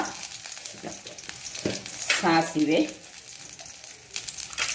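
Garlic and curry leaves sizzle in hot oil over a low flame, a steady close crackle and hiss with a brief clatter of stirring and faint background voice sounds.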